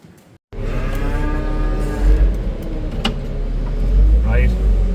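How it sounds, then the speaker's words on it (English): Cattle mooing loudly inside a farm shed, several long, drawn-out bellows close by, with someone talking in between and low machinery rumble in the background. "We better get these cattle fed."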